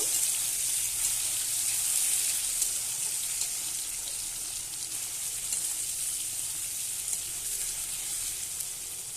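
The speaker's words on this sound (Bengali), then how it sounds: "তেল গরম হয়ে গেছে, এবার আমি পনির এখানে কেটে রেখেছি, পনিরটা দিয়ে দেব। আমি পনিরটা হালকা করে ভেজে নেব।" Cubes of paneer shallow-frying in hot oil, a steady hissing sizzle that stays even and fairly soft throughout, close by, with no speech.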